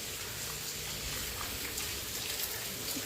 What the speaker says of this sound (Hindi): बारिश हो रही है बस